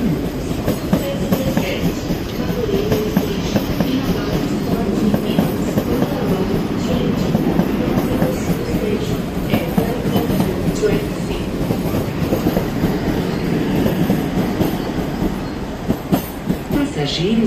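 An Alstom 5000 commuter train on the Santa Cruz stopping service at Madureira station in Rio de Janeiro gives a loud, continuous rumble with rhythmic wheel clatter and occasional squeals, close by throughout.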